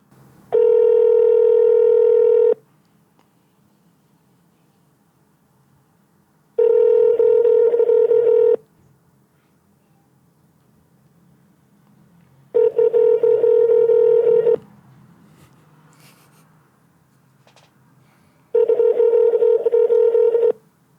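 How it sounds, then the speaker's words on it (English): A phone call rings out: four long tone bursts of about two seconds each, spaced evenly with silent gaps, clear and loud with no talking over them. "Ring him again, one more time."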